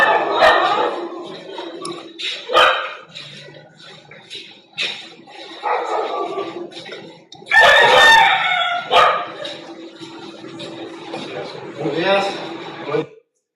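Roosters crow in a Mexican village in long, loud calls, one after another. Dogs bark and yip in between, with quieter gaps separating the bursts.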